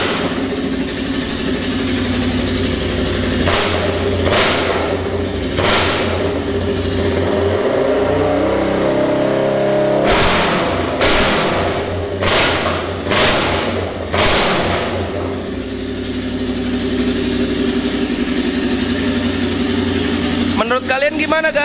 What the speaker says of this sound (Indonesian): Oke, sekarang kita coba gerung sedikit,